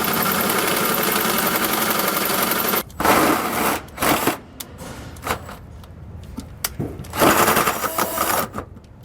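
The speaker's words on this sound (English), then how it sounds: "I'm going to go ahead and take a hole saw" A hole saw bores through the sidewall of a 2011 Coachmen Freelander RV, a loud continuous grinding whir at first, then breaking into choppy bursts and clunks as the cut finishes.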